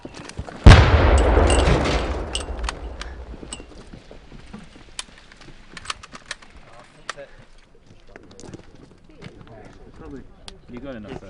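Staged explosion on a war film set, a loud boom bursting in early and decaying into a long rumbling tail, followed by scattered sharp cracks and crackles like effect gunfire and debris.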